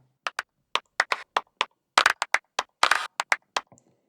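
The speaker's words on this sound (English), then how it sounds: "I triggered both the tick and trigger input for single and bursts of claps." Synthesized claps from a modular synth, sharp electronic hits in an irregular rhythm of single strikes and quick bursts, some trailing into short reverb tails, clean and isolated.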